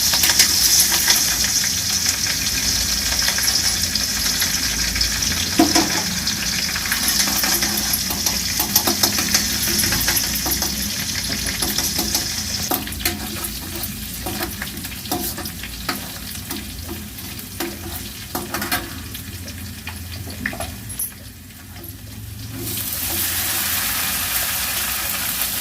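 Green chillies frying in a pan give a loud, continuous crackling sizzle with stirring scrapes throughout. The sound eases briefly near the end, then picks up again.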